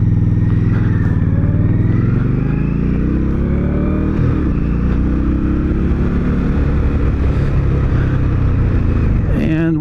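A motorcycle ridden at night drones loudly and continuously close by, its engine pitch rising and falling, with a rider talking over the noise.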